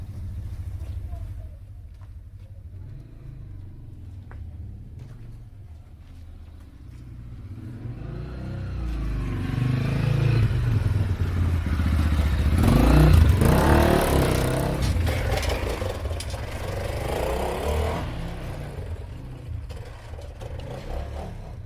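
Motorcycle engines rumble and rev through underground catacomb tunnels, a low drone swelling into a loud, echoing roar mid-race, then easing off to a steadier hum, with voices faintly mixed in.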